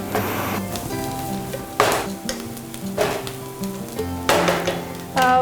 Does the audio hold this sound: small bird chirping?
no